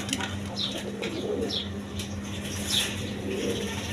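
Red Gorra pigeons cooing softly with brief bursts of wing flapping, several short calls spread over a few seconds, moderately close against a steady low hum, no talking.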